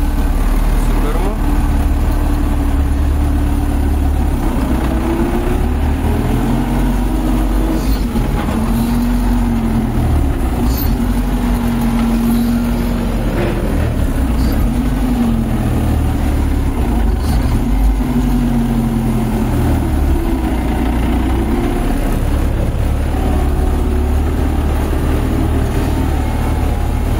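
A farm tractor engine runs steadily, hauling a slurry tanker, with a loud, continuous low rumble and slowly wavering pitch, heard close up under someone talking.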